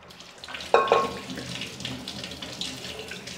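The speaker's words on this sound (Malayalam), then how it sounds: "തണുത്ത വെള്ളം ഒഴിച്ചു." Cold tap water runs into a vessel of boiled eggs, a clear rushing gush that starts abruptly and then settles into steady splashing, close by and alone.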